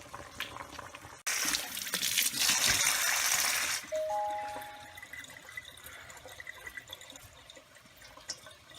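A kitchen tap runs water, which gushes loudly for a few seconds and then settles into softer trickling and dripping, heard close with no talk.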